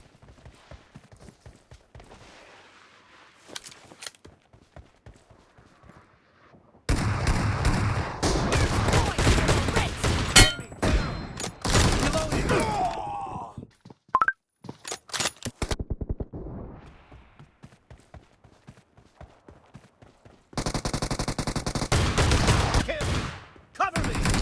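Shotgun fire in a team match of a video game, bursts of loud, rapid gunshots in dense clusters that alternate with quieter stretches of scattered single shots.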